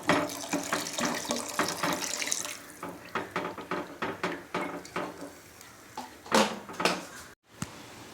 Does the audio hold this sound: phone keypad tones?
no